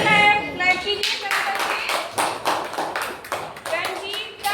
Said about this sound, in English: Can you clap कीजिए